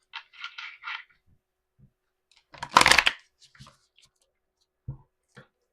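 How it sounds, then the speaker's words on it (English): Tarot cards being shuffled by hand in short bursts: a few quick riffles, then a louder, longer shuffle, followed by faint taps and card handling, close and quiet, with no voices. "One more shuffle."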